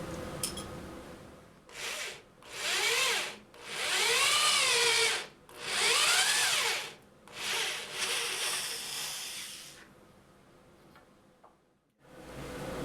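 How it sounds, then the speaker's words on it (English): A small hand-held sanding stick with glued-on sandpaper chamfers the top edge of mahogany shelf side supports, making a series of loud, raspy strokes about a second long with brief gaps, then quiet before one last stroke begins. "I'm just finishing up putting the chamfer around the top edge of the side supports. Using a little sanding stick with some sandpaper glued to it."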